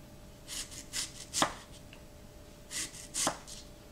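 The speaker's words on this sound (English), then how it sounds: "And you want to cut these in slices." A knife slices thinly through Honeycrisp apple halves on a cutting board, giving six or so crisp, evenly spaced cuts in two quick groups, close and fairly quiet.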